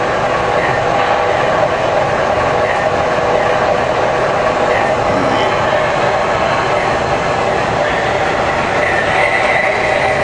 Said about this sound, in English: Now you notice these 2 engines are going.